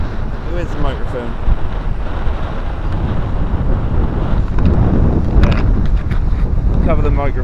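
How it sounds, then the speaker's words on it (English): Steady wind buffeting a microphone with low rumbling gusts throughout while sea fishing on Walney Island, Cumbria, while voices talk over it. "It's windy."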